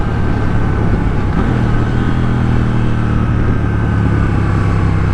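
Motorcycle engine comparable to a Yamaha MT-07, running steadily and loud on a test ride, with a low droning tone and a brief pitch change partway through, with no talking.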